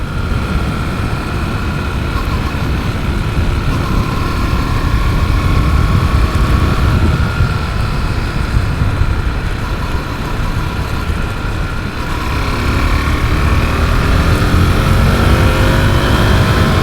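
A 2023 KTM RC 390 motorcycle engine revving under load while riding, a continuous loud droning roar with rising pitch and heavy wind rush, no talking.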